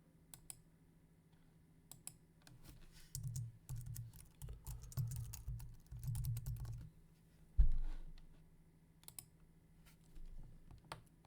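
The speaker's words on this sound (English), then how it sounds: "Begin typing the letter." Someone types a letter on a computer keyboard, with clusters of quick, light key clicks in bursts separated by short pauses and occasional heavier thumps, close and fairly quiet.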